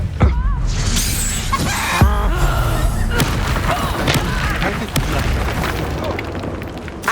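Blasts from the Confringo spell in the video game Hogwarts Legacy: a dense, loud wash of booming explosions and shattering debris with sharp cracks at the start and around two seconds, with game voices mixed in.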